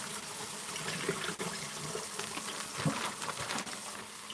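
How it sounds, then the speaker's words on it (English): Water runs into and splashes around a container being rinsed in a kitchen, a steady close rushing hiss with small sloshing changes and no talking. "I'm just going to start by rinsing this out."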